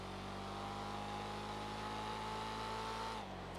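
A loud car engine in a roleplay video game drones at a steady, constant pitch, then drops in tone near the end as it eases off.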